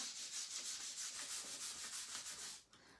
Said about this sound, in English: I am going to wax these.